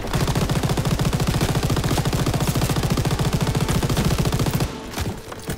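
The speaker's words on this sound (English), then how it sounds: "Holy crap, those MGs." Sustained machine gun fire in Call of Duty WW2 rattles in a fast, even stream of close, loud shots, then stops abruptly near the end.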